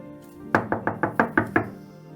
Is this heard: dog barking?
no